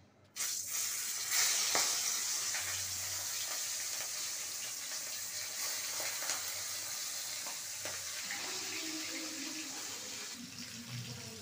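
Prawns hiss and crackle in hot oil, a bright steady sizzle close up with a few sharper pops as pieces go into the pan.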